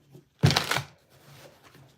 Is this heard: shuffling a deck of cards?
yes